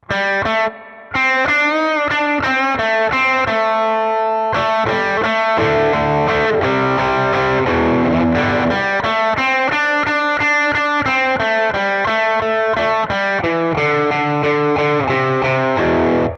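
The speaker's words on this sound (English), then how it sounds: "I'd call it like a boost lead maybe. And what I'd do is I'd add in like a spring reverb" A distorted electric guitar lead with a boost tone, played through a Quad Cortex, plays a sustained melody with a washy spring reverb tail, loud and continuous throughout.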